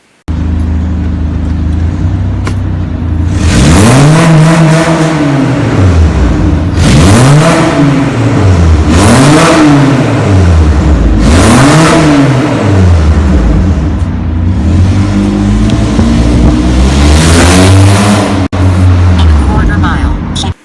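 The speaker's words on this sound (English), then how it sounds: "let me show you exactly how loud my car is with the headers and the intake" A car fitted with headers and an aftermarket intake revs hard inside a parking deck, several loud rising-and-falling blasts that echo off the concrete, each rev swelling then dropping back to a rough idle.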